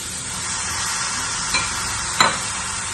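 Papaya and cooked cowpeas are stirred in a pan for a Kerala curry, giving a loud, constant hissing sizzle with two brief scraping clicks near the end.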